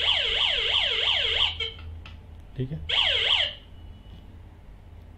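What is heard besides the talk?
ATM gate security system alarm siren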